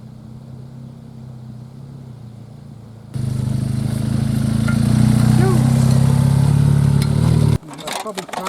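A motorcycle engine roars up as a rider brings his bike up to help someone, a loud close drone building for several seconds then cutting off abruptly, with voices around it.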